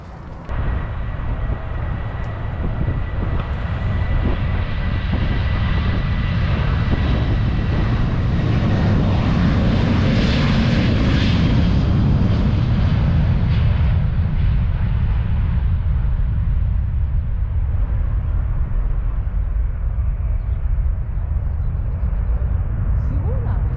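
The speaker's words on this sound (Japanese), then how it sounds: "より飛行機が間近に見えるね。" A low airplane roars overhead near an airport, swelling loudly around the middle then slowly fading, with a broadband engine rumble throughout.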